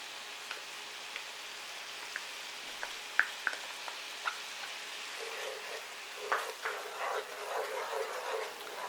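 Tomato paste and seasonings sizzle in a pan for Dominican spaghetti, a quiet frying hiss with scattered pops and ticks that swells into a busier crackle near the end, no talking.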